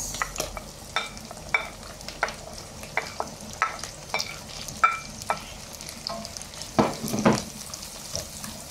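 Onions sauté in oil in a pan, a soft continuous sizzle broken by regular scraping taps of a spatula stirring, close and fairly quiet, with no voices.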